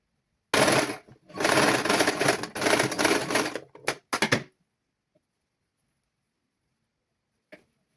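A sewing machine stitching the neckline of a child's garment in bursts of rapid mechanical chatter, several runs with short pauses, then falling quiet with one faint click later.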